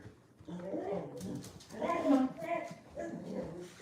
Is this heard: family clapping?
no